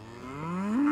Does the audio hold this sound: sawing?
no